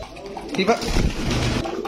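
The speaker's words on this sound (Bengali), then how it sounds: "রিবাদ ভাই, এটা কি কবুতর?" Pigeons coo softly nearby at a pigeon sale while people talk over them.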